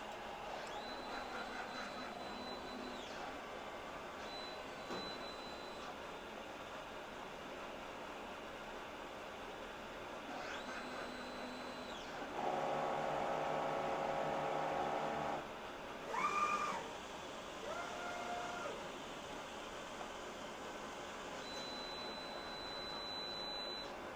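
A DTF printer runs a print head cleaning cycle, giving a steady mechanical whir with tonal pump and motor hums that rise briefly in the middle, moderately loud and close, with no talk.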